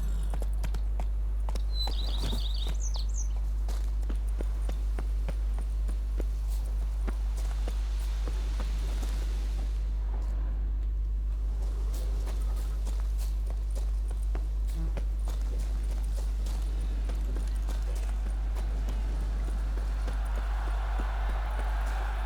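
Hooves of the horse Roach clip-clopping steadily in The Witcher 3, a quick rhythmic trot under a low constant game hum, fading to quieter footfalls partway through.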